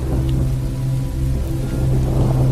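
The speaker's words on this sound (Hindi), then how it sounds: "अगले दिन जंगल में तेज तूफान आता है" A heavy forest storm pours down steady rain while low thunder rumbles underneath, a dense continuous wash of sound with no voices.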